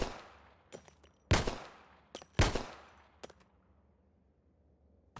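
Gunfire in a Half-Life 2 test map: a few sharp, separate shots spaced across the stretch, with small impact clicks between them and a quiet tail at the end.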